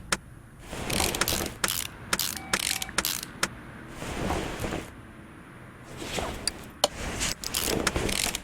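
A ratchet undoing bolts in Car Mechanic Simulator 2018, with quick bursts of sharp clicking that repeat in clusters and pause briefly between bolts, close and crisp.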